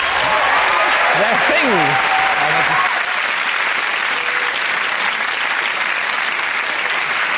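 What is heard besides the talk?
studio audience applause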